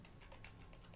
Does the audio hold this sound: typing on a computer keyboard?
yes